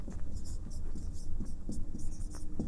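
Quick scratchy strokes of writing on a board in a classroom, a steady run of short rubbing marks, close and moderately loud, with a teacher's voice faintly underneath.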